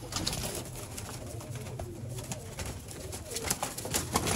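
Sialkoti pigeons cooing in a low, steady murmur, with continuous soft rustling and a busy loft-like background throughout.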